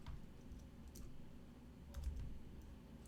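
Faint typing on a computer keyboard, a few scattered key clicks over a steady low background hum.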